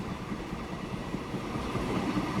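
Steady rumble of a steam train rolling along in Transport Fever 2, a continuous low mechanical drone with faint clatter, moderately loud and unbroken, no voices.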